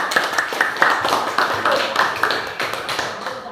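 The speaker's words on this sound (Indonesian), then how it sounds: "Dari kelompok 5, silakan tepuk tangan dulu" A primary school class claps for a group's presentation, a brief patter of individual hand claps from nearby children that rises and thins over a few seconds.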